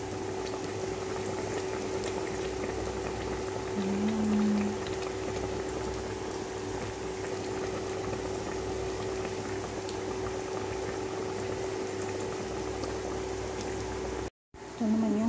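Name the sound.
pot of pigeon pea (kadyos) soup boiling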